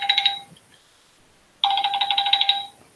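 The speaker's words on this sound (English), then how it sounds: "I should really take this phone call." A telephone rings in two bright electronic bursts separated by a short silence, loud and close, with no talk.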